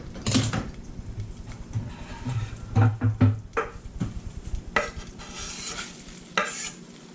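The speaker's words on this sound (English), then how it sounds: "I'm going to go ahead and throw the garlic in here." Garlic cooking in garlic butter in a pan beside spiny lobster, stirred with clinking utensil scrapes and taps over a steady, moderate sizzle.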